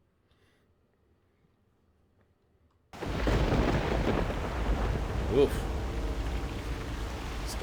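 Thunderstorm in the video game Knights of the Old Republic 2 bursts in after a near-silent start, a loud continuous roar of rain and rumbling thunder with a short spoken exclamation over it.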